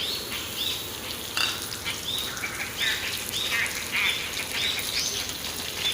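Chopped tomato goes into onions frying in oil for an Assamese fish and papaya curry, giving a steady, close crackling sizzle with small bursts of spitting and no talk.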